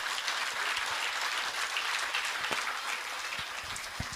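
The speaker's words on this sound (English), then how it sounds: "Kinderdalers, can you clap for Gabriela?" Children and an audience at a preschool annual day event clap steadily for a performer, a dense, sustained round of applause filling the hall from start to finish with no talking.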